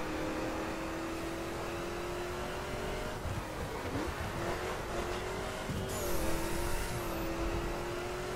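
A Cadillac Escalade in the racing video game The Crew drives at speed with a steady engine drone that dips and shifts pitch as it corners, then rises again, moderately loud with no speech.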